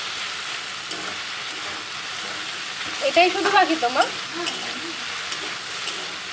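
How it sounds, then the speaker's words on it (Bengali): Mixed vegetables, cooked without onion, fry and are stirred in a pan: a short burst of scraping and sizzling in the middle over a steady kitchen hiss, with a brief spoken line. "পেঁয়াজ ছাড়া সবজি ভাজা হচ্ছে"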